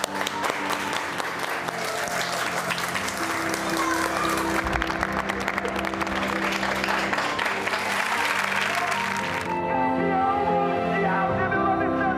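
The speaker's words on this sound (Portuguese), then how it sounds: "Vamos bater palmas para o Ayrton Senna?" A crowd applauds in tribute to Ayrton Senna, producing sustained loud clapping throughout with music running beneath it and a shift in tone near the end.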